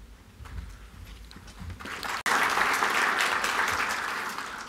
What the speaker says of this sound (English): Well, thank you for that applause.